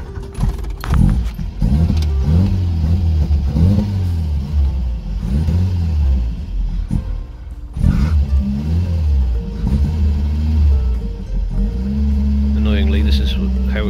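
A 1977 Vauxhall Cavalier MK1 fitted with a Weber 32/36 DGV carburettor cranks and fires, then revs in uneven rising and falling surges, loud and close, with speech overlapping at times.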